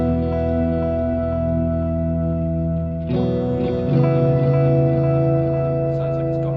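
An electric guitar played through a Line 6 Helix with an octave reverb effect: sustained, shimmering chords with a long wash of tail, shifting to a new chord about halfway through, with no voices.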